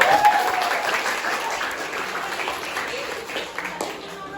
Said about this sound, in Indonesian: Nah sudah, yuk tepuk tangan untuk kita.